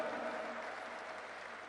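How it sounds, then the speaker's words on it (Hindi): Steady, dense applause from a crowd, sustained and fairly loud throughout with no pauses. "चंडीगढ़ के साथियों के लिए जोरदार तालियां।"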